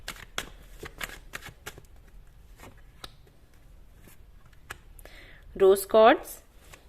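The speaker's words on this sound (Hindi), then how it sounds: "यहां से भी हम 2 कार्ड्स निकालेंगे जिन्होंने सिलेक्ट किया है टर्कोइज को" Tarot cards being shuffled and drawn, giving a series of quick papery flicks and riffles near the start, then a few scattered taps, with a brief spoken phrase late in the clip.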